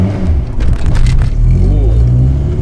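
A manual Honda Civic engine heard from inside while driving, a loud, close, throaty drone that rises briefly and then settles into a steady hum, with a faint voice underneath.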